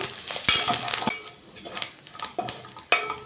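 Curry leaves, mint and coriander frying in a pot for chicken biryani, a soft steady sizzle with intermittent metal spoon stirring scrapes close by.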